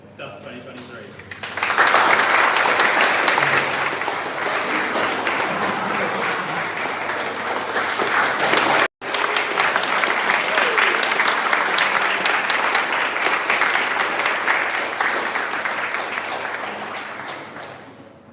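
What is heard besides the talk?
audience applause at car reveal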